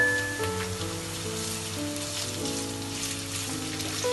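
Sausage and bacon fry in stuffing inside a pan with a steady crackling sizzle, alongside sustained background music tones.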